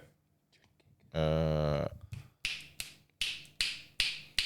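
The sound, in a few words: loud finger snap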